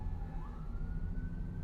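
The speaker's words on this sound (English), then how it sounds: "We got sirens now, so we'll have to watch out for that." Emergency vehicle siren on the Las Vegas Strip, a faint steady wail rising slightly in pitch, heard from a distance over the low rumble of traffic around a car.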